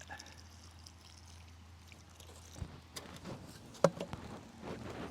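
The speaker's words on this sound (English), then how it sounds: "Put more water around it." Water poured and trickling around a freshly planted tomato seedling in a minibed garden, soft and fairly faint outdoors, with a quick louder splash near the end.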